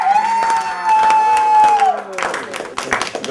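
An audience claps and cheers in a comedy show setting, a loud burst of applause and crowd noise heard alongside a sustained tone, with voices speaking over it.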